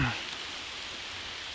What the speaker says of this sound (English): Unfortunately, this rain is going nowhere.